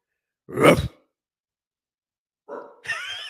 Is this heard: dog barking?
yes